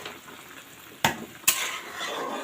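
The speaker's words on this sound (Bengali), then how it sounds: "এই তো আমার মুরগির ঝোলে বলক চলে এসেছে।" Thin chicken curry (murgir patla jhol) bubbles at a rolling boil in a pot, giving a steady hissing, sizzling texture broken by two sharp utensil knocks, with no talking.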